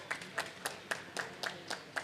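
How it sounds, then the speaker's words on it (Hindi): Rhythmic clapping for Sai during a Guru Purnima devotional gathering, a steady run of about eight sharp, evenly spaced claps at moderate distance with no talk over them. "इसलिए मेरे साईं के लिए जोरदार तालियां मारिए एक बार"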